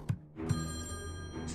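In Friday the 13th: Killer Puzzle, a game telephone gives a short metallic bell ring after a couple of soft taps, the tone sustaining brightly and close at hand, alone with no speech.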